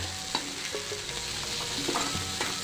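Sabudana khichdi is stirred in a frying pan, with a soft continuous sizzle under repeated close scraping and clinking strokes of the spoon against the pan.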